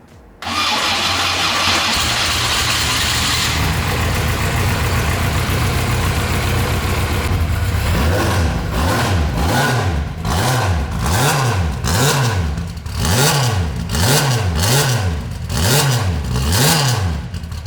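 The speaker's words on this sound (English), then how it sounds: "we're gonna quickly start it up so you can hear how the beast sounds" A turbocharged V8 van fires up with a loud bark and settles into a steady, lumpy idle. It then breaks into a series of rhythmic revs that rise and fall repeatedly, close up, with no talking over it.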